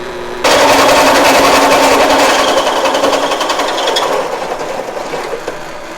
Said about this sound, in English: so I'll go over here and drill a hole now.